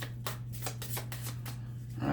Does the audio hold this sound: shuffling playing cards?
yes